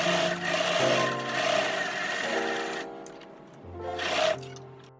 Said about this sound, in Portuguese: Depois disso eu passei uma costura reta e deixei um lado aberto